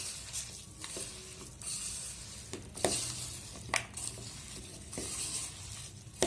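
Ground boondi being mixed with cashews, raisins and ghee for laddoo, soft scraping and stirring with a few sharper clicks of a spoon against the pan, close and quiet.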